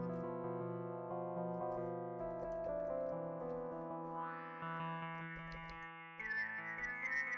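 Modal Argon8 synthesizer holding sustained, layered notes that shift in pitch and tone as the spread is automated, with resonance rising toward the end; loud and steady, no talk.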